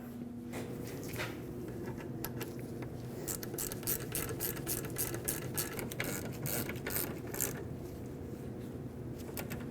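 A ratchet tightening bolts on the rear brakes of a 2009-2010 Dodge Ram 1500, its rapid pawl clicking close and steady in bursts throughout, with no talking.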